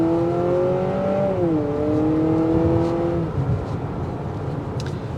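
A 2023 Honda CR-V Hybrid Sport Touring pulls away and accelerates, its steady droning engine tone climbing and shifting pitch before settling into an even road rumble, loud and close, with no talking.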